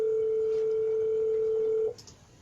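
A telephone being dialed for a callback: a steady, pure electronic tone held for nearly two seconds, then cutting off into a couple of faint clicks and quiet room noise.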